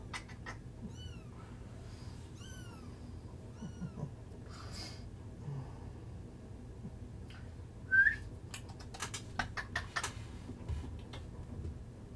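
Several kittens for sale meow in short high rising calls, clustered near the start and again later, over a steady low room hum indoors by a bed; a louder cry stands out midway.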